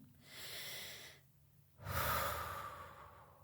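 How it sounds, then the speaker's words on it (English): A person takes a deep breath, one long exhale and then a strong inhale, both loud and close, alone with no talk. "So, take a deep breath."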